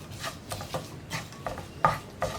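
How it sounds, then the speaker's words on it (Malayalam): A mango pickle mixed with a fenugreek and mustard blend is stirred by hand, giving soft, repeated scraping and rubbing strokes in an uneven rhythm, close and fairly quiet, with no talking. "ഇതും ചേർത്ത് നന്നായിട്ടൊന്ന് ഇളക്കി മിക്സ് ചെയ്യുക."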